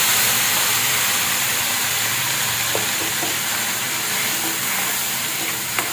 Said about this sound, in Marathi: वाटण टाकून चांगलं आपल्याला तेलामध्ये परतून घ्यायचं.